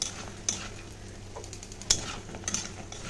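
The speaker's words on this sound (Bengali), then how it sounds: "বড়িটা খুব ভালো করে ভেজে নিতে হবে গ্যাসটা একদম আমি কম করে দিয়েছি আর বড়িগুলো দিয়ে দিলাম" Lentil dumplings (bori) fry gently in oil over a low gas flame, giving a soft, quiet sizzle broken by a few sharp clicks of a utensil against the pan.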